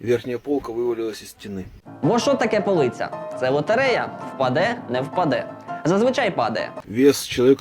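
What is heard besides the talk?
None of the usual background noises is heard.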